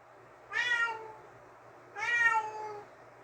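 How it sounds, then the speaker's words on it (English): A house cat meows twice, two clear, drawn-out calls about a second and a half apart, close and fairly loud over a quiet low hum, with no one talking. "It's my cat."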